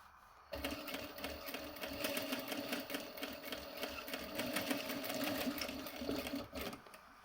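A sewing machine stitches a pair of jeans being shortened, starting abruptly with a rapid, even mechanical chatter that runs steadily for several seconds before stopping, close and alone.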